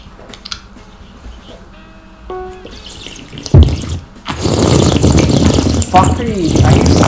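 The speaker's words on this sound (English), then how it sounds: "I'm slurping water." Water being slurped up close, a loud, rough, hissing burst that runs through the last few seconds after quieter, scattered sounds and voices earlier on.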